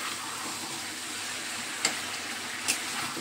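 Food fries in a pan with a steady soft sizzle and hiss throughout, close by, with two faint clinks of a utensil against the pan and no one speaking.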